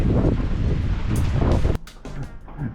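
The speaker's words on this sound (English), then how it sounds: "It's pouring down, cold, windy and dull." Steady wind roar with a dense hiss of heavy rain during a storm in Malta, loud and close, dropping abruptly to a quieter patter of drops partway through.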